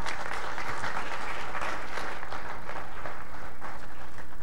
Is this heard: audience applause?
yes